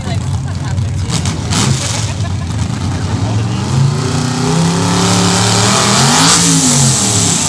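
A pulling truck's engine revs hard during a truck pull at Mercer Raceway Park, a loud rising roar that climbs in pitch toward the end, with people talking over it.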